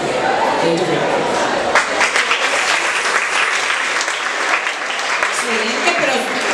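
A school audience at a Día de los pueblos originarios presentation gives sustained, steady applause, a thick wash of many hands clapping, fairly loud and close throughout, with no voices standing out.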